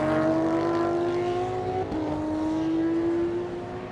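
Toyota Team Thailand's number 39 race car drives through GT Asia qualifying with a loud, sustained engine note that drops in pitch as it shifts, then climbs again under load.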